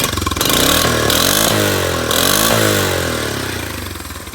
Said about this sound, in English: turn the key and it kickstarts pretty damn easily